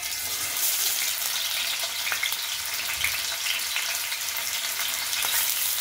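Paneer fries in hot oil in a kadhai, a continuous close, bright sizzle with fine crackling and a few pops, steady and alone with no talk.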